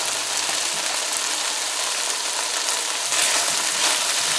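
Tomato and pounded garlic frying in a pan, a loud, dense, steady sizzle heard close up, continuous throughout.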